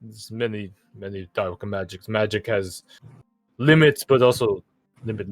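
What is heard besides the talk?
No everyday noises stand out.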